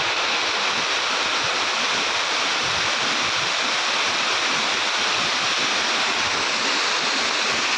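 Water pouring over Balidhyua dam after monsoon rains, a loud, steady roar of overflowing torrent rushing without pause, close by and filling the whole scene.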